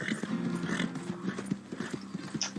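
Horse hooves clip-clop steadily in Red Dead Redemption 2 as a Kentucky Saddler trots along, close and rhythmic, with a brief whinny-like tone and faint game sounds around it.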